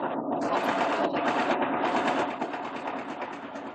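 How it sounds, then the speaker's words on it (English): A sewing machine runs continuously, a fast dense mechanical whirring that stays steady and fairly close for a few seconds. "What's that noise? That's the sewing machine."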